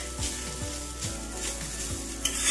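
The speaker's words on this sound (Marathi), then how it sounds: "त्यामध्ये आपल्याला 1 चमचा भरून तूप टाकून घ्यायचंय आणि ओल्या नारळाचा चव टाकायचा इथं।" Fresh grated coconut sizzling in a spoonful of ghee in a hot wok, a steady close frying hiss with a few soft stirring scrapes.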